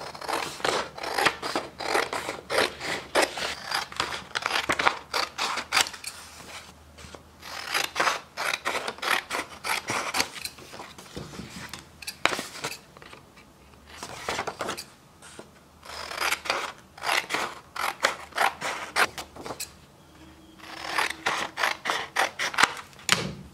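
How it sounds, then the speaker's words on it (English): Scissors snip through paper to cut out two hand-drawn shapes from a proportion drawing exercise, sounding as close, crisp bursts of rapid snipping that start and stop in irregular runs, with no talking. "So I've cut out these two drawings"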